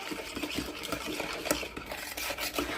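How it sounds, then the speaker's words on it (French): Eggs being mixed into sugar by hand in a bowl give a busy, scraping, wet stirring sound with quick rhythmic strokes and small clinks of utensil against the bowl, close and steady. "je vais casser mes œufs pour bien les mélanger au sucre"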